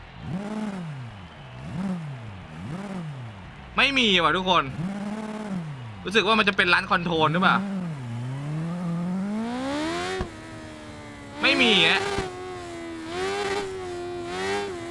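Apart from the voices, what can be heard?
supercharged Kawasaki Z H2 motorcycle engine revving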